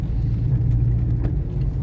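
A Chevrolet Camaro's exhaust burbles in a low, steady, fairly quiet rumble during a night drive, its cylinder deactivation keeping the note subdued.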